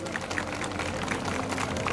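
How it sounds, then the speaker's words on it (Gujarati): A crowd claps continuously in welcome of a family at a village community gathering, a dense steady patter of many hands with some murmuring. "જોરદાર તાળીઓ થઈ જાય પરિવારને"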